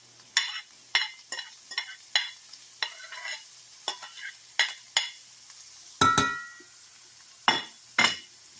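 Minced garlic and half an onion cooking in a pan, a soft sizzle under repeated sharp scraping and clinking strokes of a utensil stirring, close and fairly loud, with no talk.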